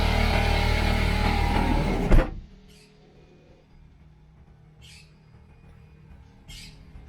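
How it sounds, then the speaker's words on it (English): After loud machine noise cuts off, a bird squawks in the background outside a mobile detailing van, with short, faint, scattered calls spaced a couple of seconds apart. "Still hear that bird."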